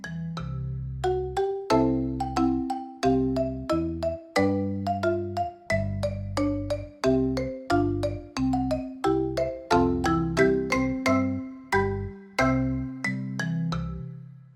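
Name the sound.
phone ringing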